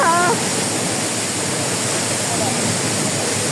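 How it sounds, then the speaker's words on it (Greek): Steady broadband rush of a waterfall at the Pozar thermal baths, loud and close, filling the whole clip without letup. "Τρέχει το νερό."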